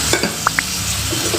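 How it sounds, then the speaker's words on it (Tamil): Onions, green chillies and curry leaves stir in a pan of oil for chicken kulambu, a steady sizzle carrying a few sharp spoon scrapes and taps against the pan, close and fairly loud. "இப்போ இதை நல்லா மிக்ஸ் பண்ணி கொடுத்துக்கலாம்."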